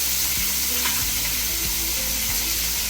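Onion, tomato, cashew and coriander frying together in a pan for paneer curry, a loud continuous sizzle with light stirring scrapes and no voices.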